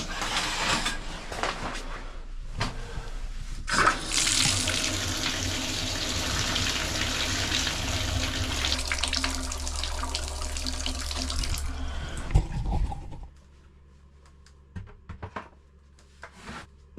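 Well water filter system pressure being relieved into a bathtub: a loud, continuous rush of water pouring for about ten seconds, then cutting off abruptly to a few faint drips and clinks.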